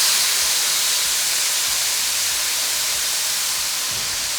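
Steak sizzling on a comal over medium-high heat, a steady bright hiss that holds evenly throughout with no talk.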